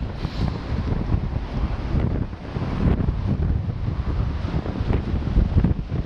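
Wind rushes across a microphone during a bike ride on the Otago Rail Trail in New Zealand, a loud, continuous roar and buffeting with low rumbling gusts that never ease.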